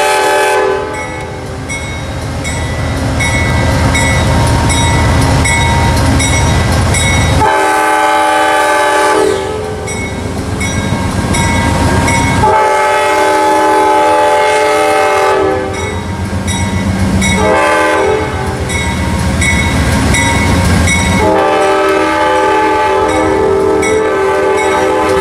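Freight train PO89, led by locomotive 186, passes close with a K5LA horn sounding in several long, loud, chord-like blasts over the rumble of the train.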